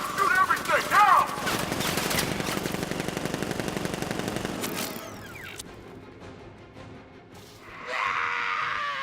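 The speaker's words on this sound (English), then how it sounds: "Open fire! Shoot everything!" Heavy automatic gunfire rattles in rapid bursts during a combat scene in the Batman: Arkham Knight video game, with a shouted voice at the start and the shooting fading out before a rising mechanical whoosh near the end.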